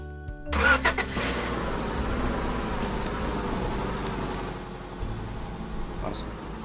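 A truck in Roblox Lumber Tycoon 2 starts up with a few sputtering engine bursts, then settles into a steady mid-pitched motor drone, close and continuous, with talk over it.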